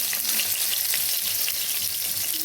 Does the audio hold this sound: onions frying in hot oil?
yes